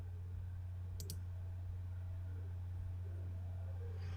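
A computer mouse gives a single quick double click while a course file is opened on an online course platform, crisp and close against a steady low electrical hum, with no talking.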